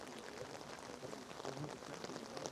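Rain patters steadily on surfaces around the ruins of the Roman Imperial Palace on Palatine Hill in Rome, a faint, even hiss of drops with no one talking.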